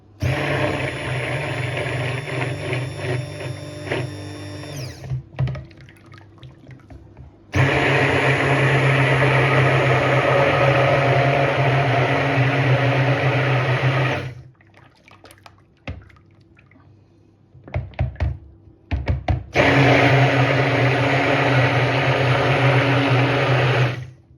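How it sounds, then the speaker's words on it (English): Immersion blender whirs loudly while mixing cold-process soap solution in a tub, running in three long bursts separated by pauses with brief clicks and liquid sloshing; no talking. "And I have it here with my immersion blender. And you're just going to mix it."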